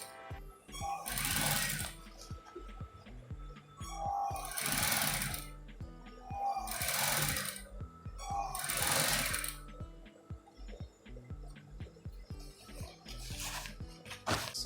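A sewing machine stitches along the edge of a fabric channel on a corset top in four distinct bursts of steady rapid whirring, loud and close, with quieter mechanical sounds between runs.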